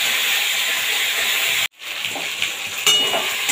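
Turmeric, chilli, cumin, ginger and tomato paste frying in a pan, giving a steady loud hiss and sizzle. It cuts out abruptly for a moment, then returns with some stirring scrapes.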